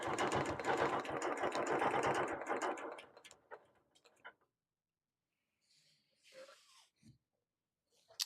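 A sewing machine doing ruler work, stitching a quilt, runs steadily and close for about three seconds, then stops, leaving a few faint clicks and soft handling noises.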